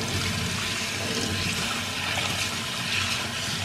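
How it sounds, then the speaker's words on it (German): Rice is rinsed under cold running water, a steady, loud stream of water splashing and hissing continuously and up close, with no voices. "Wir waschen das mit kaltes Wasser."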